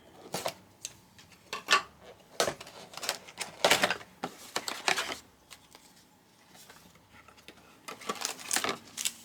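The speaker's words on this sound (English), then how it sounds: "I'm gonna go ahead and snip this open" Scissors snipping open a Wixoss trading card booster box, with scattered crisp cuts, cardboard and plastic rustles and handling clatter in irregular bursts, close and moderately quiet, with no talking.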